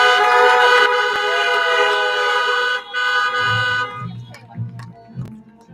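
Car horns blare at a drive-through 8th grade graduation, several long overlapping honks at first, then fading as low voices and shorter toots follow.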